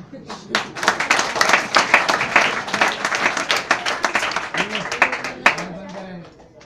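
An audience clapping at a mimicry show, a quick patter of hands that swells and fades, with a voice talking over it throughout.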